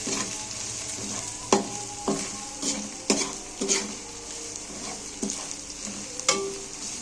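Fennel, fenugreek and nigella seeds roast in hot mustard oil for pickle-style taro, with a steady close sizzle and several sharp scrapes and clinks of a spoon stirring in the pan, no talking.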